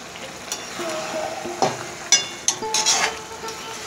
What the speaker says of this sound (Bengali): এরপর যে সিদ্ধ করা ইঁচড় আর আলু আছে সেটা ছেড়ে দিচ্ছি এই চিকেনে